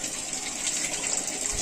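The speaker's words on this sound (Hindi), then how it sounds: "सरकारी वाले पानी भरत गए" Water from a government supply line gushes steadily as it fills a container at home, a continuous hissing rush heard up close with no talking.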